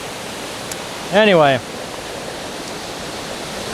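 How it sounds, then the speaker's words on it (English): An Oregon waterfall in a mossy, fern-lined gorge roars as a steady, broadband wash throughout, with a single short spoken word rising briefly over it. "the waterfall coming right down through it"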